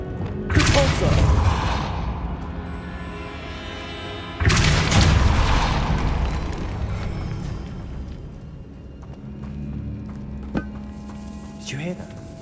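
A Repulso spell in Hogwarts Legacy sets off two loud, booming blasts a few seconds apart, each with a burst of broadband rush that fades slowly. Fainter thuds and a low ambient hum follow, with someone speaking between them.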